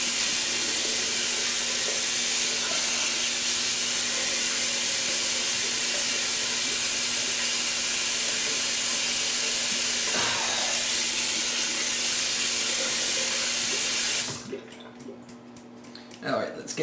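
A bathroom tap runs in a loud, steady hissing rush while a shaving brush is rinsed under it. After about fourteen seconds the flow shuts off, leaving a few quiet drips and small handling sounds.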